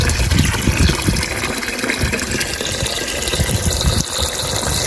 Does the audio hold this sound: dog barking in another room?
no